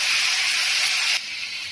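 Tomato hitting hot oil with frying onion and ginger-garlic paste in a pan gives a loud, steady sizzle that drops to a softer hiss partway through, with no talking.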